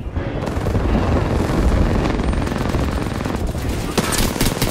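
An airstrike in the battle game Apex Legends rains down as a dense, continuous barrage of explosions and rapid gunfire, loud and close throughout, with a voice briefly heard beneath.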